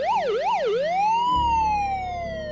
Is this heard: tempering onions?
no